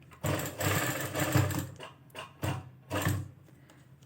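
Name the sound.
sewing machine stitching crossed fabric cords on trouser hem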